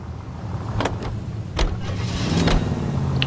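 A Studebaker Commander hardtop in the video game LA Noire, a low engine rumble with a few sharp door or mechanical clunks over a steady idle, fairly close, with no talk.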